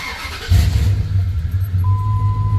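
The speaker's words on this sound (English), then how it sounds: "Truck started." A Ram pickup truck engine cranks and catches at about half a second, then settles into a steady, close idle rumble, with a faint electronic tone appearing near the end.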